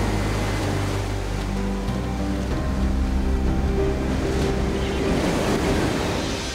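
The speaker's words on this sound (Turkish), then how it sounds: "Dalgaların sesini duyuyor musun?" Ocean waves wash steadily onto a shore in a constant, loud roar of surf with some wind noise, heard alone without any voices.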